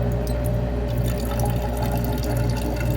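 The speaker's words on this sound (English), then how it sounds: "I will just start both collecting the water in this beaker here." Water from a pipe pours steadily into a lab beaker during a head-loss experiment, a loud, continuous rushing and splattering flow with no pauses and no talk.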